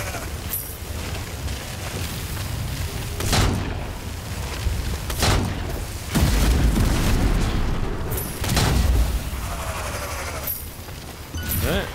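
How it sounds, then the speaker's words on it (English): Explosions in Strange Brigade come as several heavy booms and sharp blasts spaced across the stretch, over a dense rumbling backdrop of crackling debris and gunfire-like bursts, with someone talking faintly in places. "I don't know why that thing exploded"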